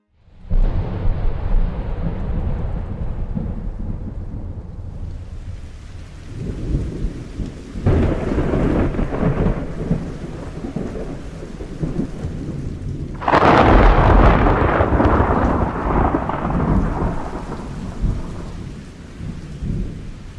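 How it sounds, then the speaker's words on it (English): Thunder from an approaching storm rolls in deep, rumbling waves over steady rain. The rain hisses throughout, and a louder thunderclap swells midway before easing back into lingering rumbles. "Who hasn't felt the rumble of an approaching storm and considered God's might?"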